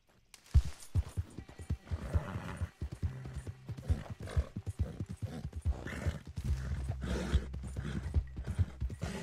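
Hooves clip-clop in a quick, steady rhythm, a video game horse trotting close by with a low mechanical hum beneath.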